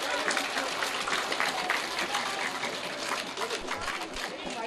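Audience applause at a government primary school award event, a continuous wash of clapping from a crowd, fairly loud and steady throughout with voices mixed in.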